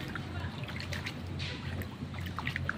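Small stream running through quiet rural farmland, a steady close trickle and gurgle of water flowing without pause.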